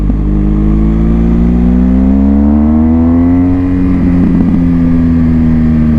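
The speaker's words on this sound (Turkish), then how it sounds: "Devri biraz uzatıp bıraktığınızda arkadan bir poturdama geliyor mısır patlatır gibi gidiyoruz" A BMW R1200 GS motorcycle fitted with a new exhaust muffler revs steadily up and back down, its engine note rising and falling up close with a few crackling pops from the exhaust.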